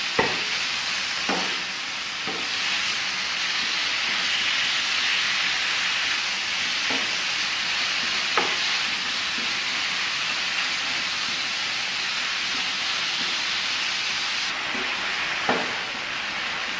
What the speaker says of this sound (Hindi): और हमने इसको ऑयल में अच्छे से फ्राई करना है तब तक जब तक इसका कलर नहीं चेंज हो जाता।